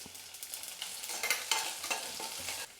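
Crushed garlic fries and sizzles in a pan for avarakkai kuzhambu, a steady hiss with soft stirring scrapes at an even pace, close and alone without talk.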